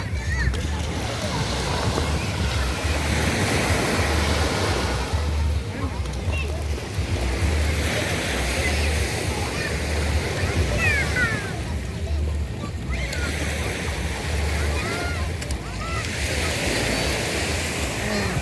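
Ocean waves on a beach in Aceh where a fishing net is hauled ashore by hand, a steady broadband wash of surf with wind buffeting close in, continuous throughout with only slight swells in level.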